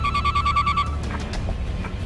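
A telephone rings in short repeated electronic bursts during a call, loud and close, then stops and leaves a low background hum.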